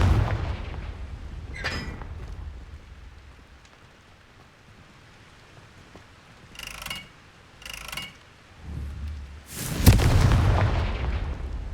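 A Confringo fire spell bursts in Hogwarts Legacy: sharp crackling blasts and whooshing impacts, with two quick bursts midway and a loud, sustained explosion near the end over a low rumble.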